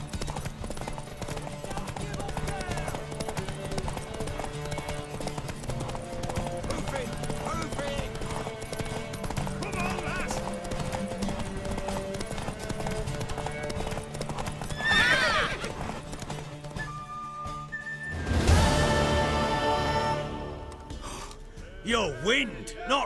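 Horses gallop in a horse race in the video game The Witcher 3: Wild Hunt, with rapid continuous clip-clop of hooves, a loud whinny partway through, and game voices speaking over the hoofbeats.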